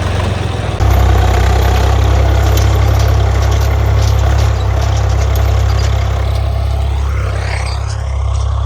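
A John Deere 4WD tractor engine runs steadily in a farm field before cultivator work, a loud, close, continuous low rumble with a rising whine near the end; no talking.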